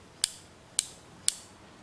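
Three crisp metallic clicks of a Pietta Colt Paterson .36 caliber revolver cylinder rotating and locking, evenly spaced about half a second apart, close up against quiet background hiss.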